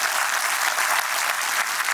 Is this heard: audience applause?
yes